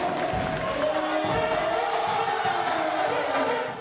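Supporters in a volleyball hall cheer and applaud at the end of a women's playoff match at Saint-Raphaël, a dense, loud wash of crowd noise with voices mixed in throughout.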